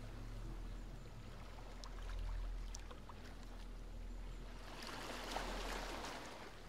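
Gentle waves wash toward the shore at the water's edge, a soft, low, continuous swash that swells and recedes, quiet and without voices.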